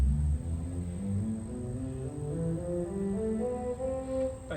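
A pipe organ with a single stop drawn plays a steady run of sustained notes, one after another, clear and resonant with no talking over it.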